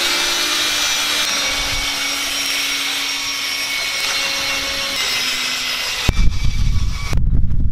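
Power tool on its low speed setting buffing a car headlight outdoors in a driveway, a steady loud whirring drone that cuts off near the end, followed by some handling noise.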